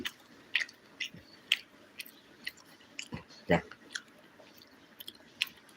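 Close, soft chewing and biting while eating chicken fry with puttu and kadala, a series of irregular moist crunches and smacks, quiet and intimate, with a voice speaking briefly.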